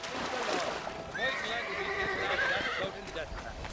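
A horse in the video game Red Dead Redemption whinnies loudly in a long, quavering call over a noisy outdoor background, with a voice heard faintly around it.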